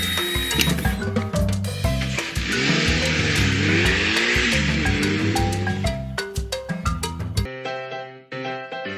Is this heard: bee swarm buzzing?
no